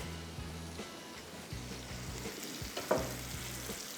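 Hyderabadi shami kababs fry in a pan with a continuous close sizzle, broken by a few stirring or shifting scrapes near the middle.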